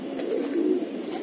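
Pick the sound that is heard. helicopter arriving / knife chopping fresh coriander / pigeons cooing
pigeons cooing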